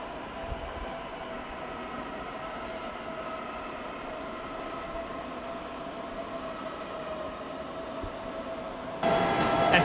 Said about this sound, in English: S-Bahn train there in the background